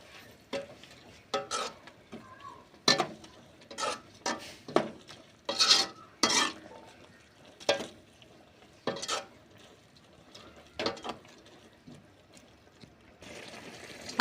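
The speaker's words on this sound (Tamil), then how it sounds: "பப்பிக்கு அப்படியே கிளறி விட்டுக்குங்கப்பா" Soya chunks and macaroni are stirred in a frying pan with a spoon that scrapes and clinks against the metal in repeated uneven strokes, close and fairly quiet, with light sizzling between the strokes.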